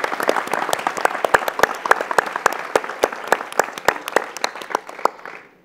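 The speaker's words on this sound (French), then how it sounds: "on peut s'applaudir. Oh, oui, bravo" Audience at a housing summit applauding with steady, distinct claps that thin out and stop near the end.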